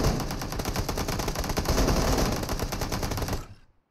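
Automatic gunfire in the video game PUBG, a loud, continuous rapid burst of shots lasting several seconds before cutting off abruptly.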